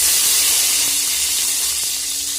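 Garlic and curry leaves crackling in hot oil with mustard seeds and cumin, a steady loud hiss with faint pops throughout, close by and free of talk.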